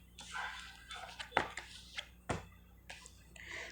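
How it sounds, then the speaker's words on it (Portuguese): A neighbour's dog downstairs gives several short barks spread across a few seconds, faint and somewhat distant, separated by quiet gaps with some room noise. "é o cachorro lá embaixo"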